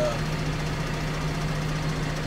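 John Deere diesel tractor with a wide front and a rebuilt combine engine fitted, running steadily with a loud, constant low drone and hum close by.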